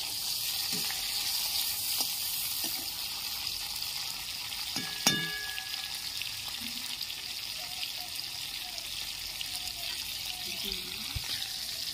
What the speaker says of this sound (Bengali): দেখুন কি সুন্দর হালকা করে ভেজে নিচ্ছি।